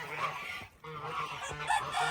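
Geese honk loudly and repeatedly at close range, several harsh calls in quick succession.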